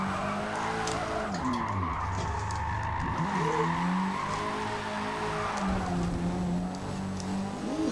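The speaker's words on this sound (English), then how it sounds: "All right, let's do a little clutch kick, see how it works." A 1991 BMW M3 E30 drift build with short gearing, in the Forza racing game, is clutch-kicked into a slide: a continuous engine drone with revving swells and sustained tire squeal, loud and close, with no talking.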